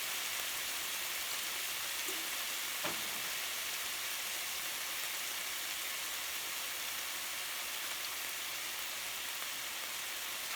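Garlic and butter sizzling in a pan: a steady, dense, bright frying hiss throughout, even and unbroken, with one small clink near the start, close and fairly quiet.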